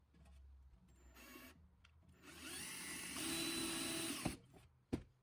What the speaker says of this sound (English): Then I drill the hole.